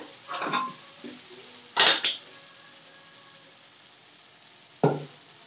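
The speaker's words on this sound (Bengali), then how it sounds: "এবার আমি এর মধ্যে মটরগুলো দিয়ে দেবো।" Boiled peas tipped into fried spice masala in a pan for vegetarian ghugni, giving a couple of short clattering scrapes and a brief sizzle with quiet pauses between and no voices.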